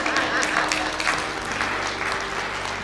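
An audience at a motivational speech claps steadily, a dense, even wash of applause from a fairly large crowd, filling the whole stretch without pause.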